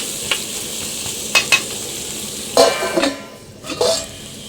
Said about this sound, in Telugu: కాకరకాయ ముక్కలు వేసేసుకున్నాక బాగా మగ్గించుకోండి సిమ్లో పెట్టి మగ్గించుకోండి